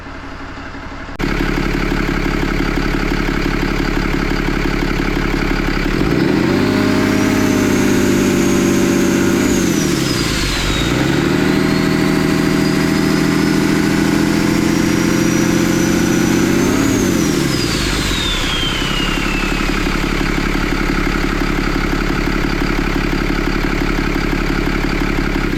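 A heavy 6.7 Cummins diesel engine in a 2017 Dodge 3500 truck runs steadily and loudly nearby, with a couple of swells as it revs up and settles back to idle, and a whining tone rising and falling with the revs.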